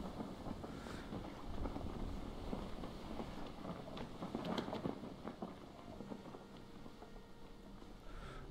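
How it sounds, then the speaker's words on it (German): Steady wind blows over open water in the survival game Stranded Deep, a low, even rush with faint gusts and no speech. "Oh, ein bisschen windig hier gerade."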